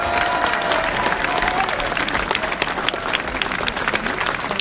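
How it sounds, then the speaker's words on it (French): Loud, sustained applause from an outdoor festival audience clapping for school children's performance on the island of Bréhat, a dense steady patter of many hands with some crowd noise mixed in, lasting the whole stretch. "Applaudissements encore une fois pour les enfants des écoles."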